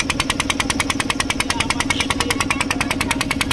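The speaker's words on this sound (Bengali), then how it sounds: "এখানে হচ্ছে মোটর চালিত নৌকা" Near and loud, a motor-driven boat engine chugs at a fast, even rhythm at the Bata ferry ghat, its repetitive knocking pulses running steadily throughout.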